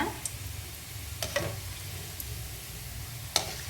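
Badusha sweets frying in hot oil and being turned over, a steady low sizzle with a few light clicks and taps of a spoon against the pan, close and continuous.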